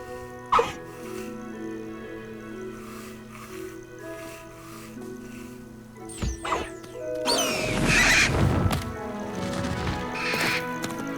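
A strange-looking winged creature named Highwing, treated as a horse in the video game Hogwarts Legacy, gives a loud, raspy whinnying cry near the end, after quieter in-game ambience and tonal music, with a brief sharp snort early on.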